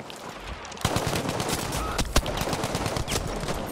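Rapid automatic gunfire in the Battlefield V video game on PS4, sustained bursts with several sharper close shots standing out over a dense battle din, no talk.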